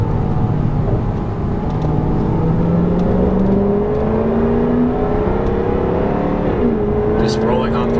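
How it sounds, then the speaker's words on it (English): Jaguar F-Type R AWD engine pulling under throttle, a steady loud drone with rising tones that climb through the revs, then a brief shift dip near the end before climbing again, heard from inside the car. "Just rolling on throttle is just so much fun."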